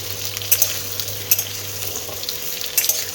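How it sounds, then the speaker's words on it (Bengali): Pumpkin and carrot pieces frying in hot oil for khichuri, a steady close sizzle with occasional sharper crackles and stirring scrapes, no voices. "কুমড়ো আর গাজরটাও ভেজে নেব এর সাথে।"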